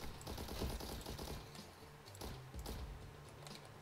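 Rapid SMG bursts rattle in the video game The Hong Kong Massacre, loud, continuous and dense, with a short break partway through.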